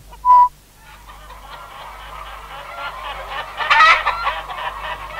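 Free-range farm hens foraging outdoors, giving a loud sharp squawk near the start, then a steady mix of clucking and murmuring calls that builds to a busier burst of cackling near the end.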